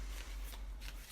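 Tarot cards shuffled by hand during a reading, a quiet series of soft riffling bursts repeating in quick succession, close to the microphone with no talk over it.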